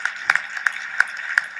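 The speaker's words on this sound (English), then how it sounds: "Let's give them a round of applause" A panel audience at a Toronto event gives a brief round of applause, scattered individual claps with a few sharper hits standing out, fairly quiet and thin as if from a small group.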